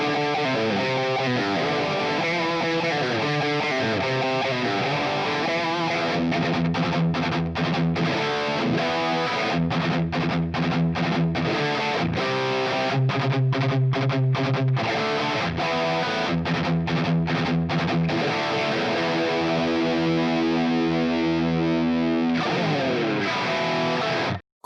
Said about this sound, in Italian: Ora però schiacciamo il potenziometro, rimettiamo l'humbucker e saliamo decisamente con la distorsione.